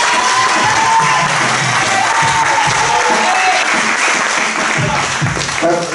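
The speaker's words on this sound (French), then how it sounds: "Applaudissez pour Jésus, s'il vous plaît." A church congregation at a baptism service applauds loudly and continuously, with dense clapping from a full room and scattered voices rising through it.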